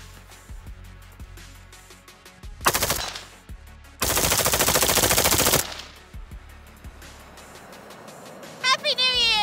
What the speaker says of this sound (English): celebrating full auto style with the Micro Galil